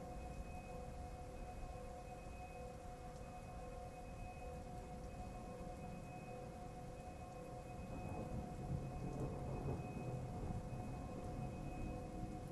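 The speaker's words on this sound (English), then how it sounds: "I do like the ambient thunderstorm noise." Ambient thunderstorm in the game Bloodborne: steady hiss of rain under low rumbling thunder that swells louder toward the end, with faint tonal hums running beneath and no talking.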